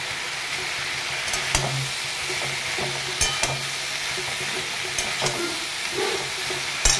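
Tomato, salt, turmeric, cumin powder and ginger paste sautéing in a pan, stirred now and then with sharp scrapes over a constant soft sizzle, close and alone without talk.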